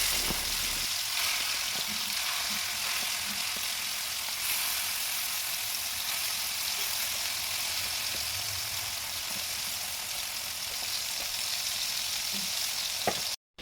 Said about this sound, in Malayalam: എണ്ണ ചൂടായിട്ട് വരുമ്പോഴത്തേക്കും ഞാൻ അതിനകത്തോട്ട് കൊഞ്ചിങ്ങനെ ഓരോന്നായിട്ട് പറിച്ച് വെക്കുന്നുണ്ട്